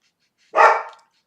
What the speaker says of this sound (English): Small border collie has a lot of say.